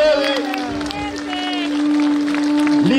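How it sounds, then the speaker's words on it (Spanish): A crowd applauds during a presidential visit to a rural district, the clapping mixed with a sustained tonal instrument or voice and crowd noise, loud throughout. "recibamos un voto de aplauso al señor presidente de la República"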